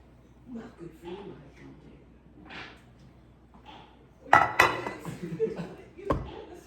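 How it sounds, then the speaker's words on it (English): A greased 9x13 baking pan is picked up in a home kitchen with metallic clatters and knocks, a loud clang and a couple of sharp bangs after quiet moments of soft talk and laughter. "I'm gonna grab my greased 9x13 pan"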